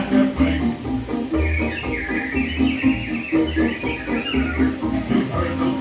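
Animatronic birds in Disneyland's Enchanted Tiki Room sing and chirp in a bright, busy chorus over rhythmic music with a steady beat, heard from the audience at moderate volume.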